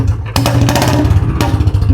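A Royal Enfield Bullet BS6 engine runs close by with a loud, low, rhythmic thumping idle, heavy and continuous over two seconds.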